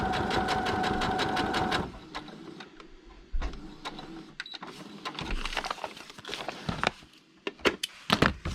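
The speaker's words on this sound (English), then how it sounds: "then I'm going to sew back across this bottom part here to get to the opposite corner" A sewing machine stitches fabric onto paper in a fast, steady run of close mechanical clatter that stops, then starts again in shorter bursts among handling sounds.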